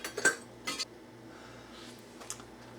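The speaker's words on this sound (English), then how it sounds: "See if I can scrape out that inside." Scraping inside a vintage Farberware percolator, a few short metallic clinks and scrapes clustered in quick bursts, close and fairly quiet, with no talk.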